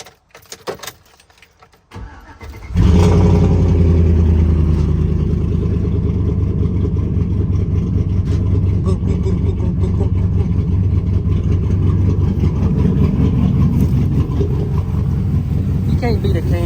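A cammed GMC Sierra pickup's LS V8 with a cold air intake starts after a brief rustle and then idles loudly and steadily with a lopey, choppy rumble that continues for the rest of the clip.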